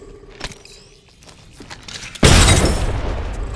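A frag grenade goes off in the Apex Legends video game with a sudden, loud, broad boom partway through, followed by a sustained roaring rumble, preceded by quieter footsteps and small clicks.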